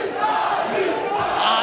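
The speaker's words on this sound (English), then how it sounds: "The crowd getting louder here in the third and final round." Crowd at a mixed martial arts fight in its third and final round, a steady, loud roar of cheering and shouting that fills the whole moment.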